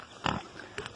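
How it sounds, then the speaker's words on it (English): A pig grunts after eating poured-out corn mash on a farm, giving a short, close snort followed by a fainter second grunt. "Look at this pig."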